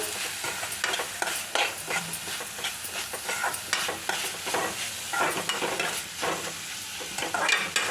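Moong dal frying in a pan as it is stirred, with a steady close sizzle and repeated scraping strokes of a spoon throughout.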